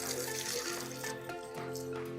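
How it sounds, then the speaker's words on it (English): Water runs and splashes steadily off ceramic-coated Hummer wheels during a car wash, a soft close trickle with no talking. "Yeah, the water runs right off and it cleans up really nicely too."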